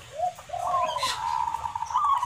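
A perkutut, or zebra dove, coos alone in a soft, rolling, drawn-out call that rises and sustains over a faint low background hum.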